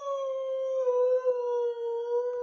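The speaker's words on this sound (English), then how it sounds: "like this dog that believes it's an ambulance" A dog howls in one long, steady, siren-like wail with strong harmonics that holds its pitch for several seconds, close and loud, with no other sounds around it.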